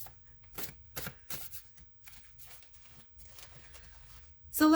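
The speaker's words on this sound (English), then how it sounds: "I have like a huge stack here, so it's it's getting a little hard to shuffle" A large, hard-to-handle stack of tarot cards is shuffled up close, giving bursts of papery riffling and slapping in uneven rhythm, with a louder knock at the end.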